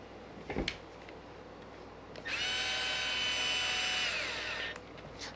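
A small power drill drives screws on a 1/10-scale Traxxas Rally RC car, whirring steadily for about two seconds after a single knock, then winding down; close and moderately loud, no talking.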